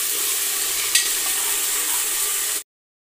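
Onions sizzle and fry in hot oil after ginger garlic paste goes in, a steady close hiss with a brief stir scrape near the one-second mark before cutting to silence.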